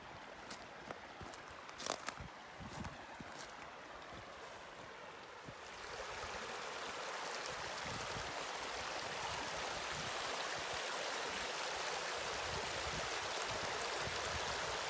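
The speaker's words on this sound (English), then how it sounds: "let's have a look down here where the water is overflowing" Creek water overflowing after heavy rain, a broad continuous rushing roar that swells louder partway through, steady and fairly close outdoors, with a few faint knocks early on and no talking.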